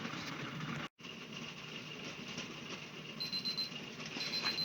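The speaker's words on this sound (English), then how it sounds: "Our timer has just gone off, announcing 10 minutes has gone by in our water bath" Kitchen timer going off during water-bath canning of clementine marmalade, a string of faint, thin electronic beeps in short repeated bursts over a steady stovetop hiss.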